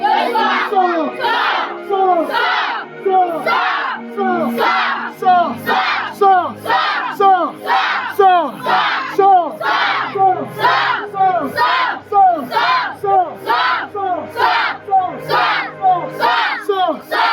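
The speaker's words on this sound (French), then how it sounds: "on acclame Jésus" A church congregation cheers and acclaims Jesus in rhythmic, repeated bursts of loud collective shouting and ululation, pulsing steadily throughout.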